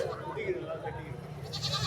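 Goats at the Ranipettai livestock market bleat briefly amid the bustle, a short nearby cry heard under people talking.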